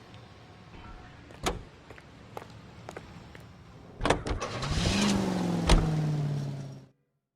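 A car in the video game L.A. Noire: door clunks and a few sharp knocks, then the engine starts up and settles into a rising hum, fairly close, ending abruptly with no talking.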